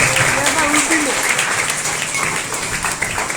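Audience applause at a VBS 2026 gathering: a dense, steady wash of many hands clapping continuously, with voices mixed into the crowd noise.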